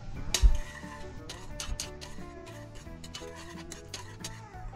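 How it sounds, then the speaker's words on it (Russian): Homemade invert syrup being stirred in a pot, with irregular metallic clinks and ticks of a spoon against the pot over a low hum, no talking. "Теперь это все перемешиваем еще"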